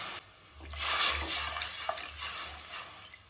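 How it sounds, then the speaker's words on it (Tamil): Water splashes and pours into a pot of rice in a short burst, a close, gurgling rush. "அதில் வந்து தண்ணி சேர்த்துக்கலாம்"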